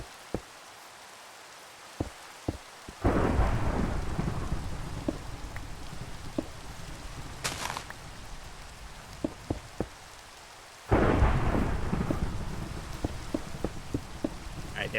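Rain and thunder in the Minecraft video game: steady rainfall hiss swelling into two loud rolling thunder rumbles, with scattered sharp clicks and a brief bright burst between them.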